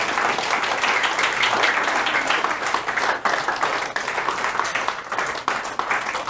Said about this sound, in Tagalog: Malakas pang palakpak dyan sa kanto